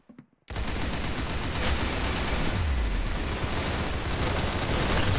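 Dense, continuous gunfire from the shooter video game Arsenal erupts after a brief quiet start and keeps up a loud, rapid barrage of overlapping shots for about five seconds.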